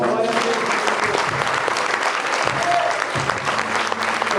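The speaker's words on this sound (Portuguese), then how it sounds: "Dê uma salva de palmas." Church congregation applauding during a Sunday worship service, a loud sustained wash of many hands clapping that holds evenly throughout with a faint voice underneath.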